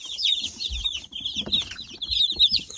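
Baby chicks in a brooder cheep constantly with high, shrill peeps, close and busy, with soft scratching and shuffling underneath and no voices.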